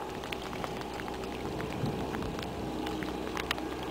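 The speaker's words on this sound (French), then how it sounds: "Regardez, il mouille." Rain falls steadily in a forest during a coming thunderstorm, a constant soft hiss with scattered drop ticks, fairly faint and even with no talking.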